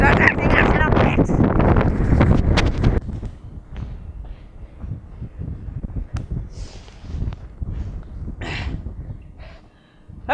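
Strong gusts buffet the microphone in loud rumbling bursts outdoors in Texas, easing into quieter, intermittent wind with faint high chirps.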